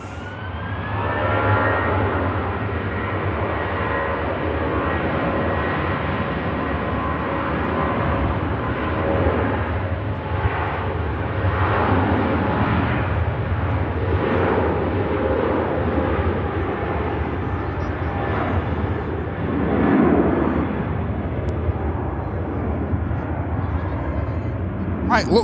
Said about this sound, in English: Might look worse for wear, the Norwegian, but it sounds great as it rotates and begins the journey back to Scandinavia